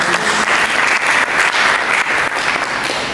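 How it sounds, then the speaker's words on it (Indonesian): A church congregation claps together in a loud, dense burst of applause that holds steady for a few seconds, with faint voices under the clapping. "Mari kita berikan tepuk tangan bagi Yesus"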